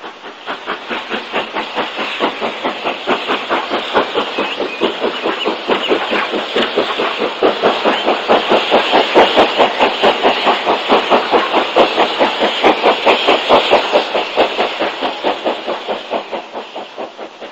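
Steam locomotive hauling an LCGB railtour special departs with rapid, rhythmic exhaust chuffs and hiss, steady and fairly close, swelling slightly then easing away.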